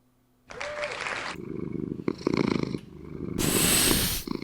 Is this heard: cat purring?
yes